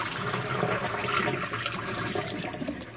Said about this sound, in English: we don't want our fish scales going down the sink while we rinse